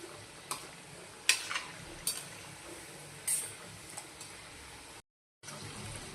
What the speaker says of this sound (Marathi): सोनेरी रंगावर हे चांगल्या अशा तळून घ्यायच्या आहे सोनेरी लाल रंगावर हे बघा किती छान याच्या लेअर सुटत आहे तेलामध्ये